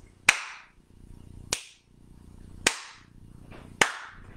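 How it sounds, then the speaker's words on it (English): Flamenco palmas claras, flat-palm claps with fingers together, sound as four sharp, crisp, evenly spaced single claps, close and loud against a quiet room. "Our palmas claras sound like this."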